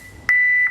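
A single steady tone from a medium-to-heavy-duty truck back-up alarm sounding in reverse, close and loud, starting abruptly and holding for about half a second.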